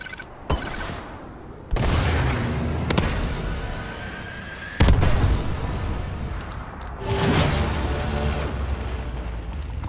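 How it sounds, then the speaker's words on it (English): Missile strike explosions hit in Call of Duty Advanced Warfare, a video game: several heavy booming blasts with sharp onsets and rumbling tails, loud and close, amid ongoing gunfire. "Friendly missile strikes incoming."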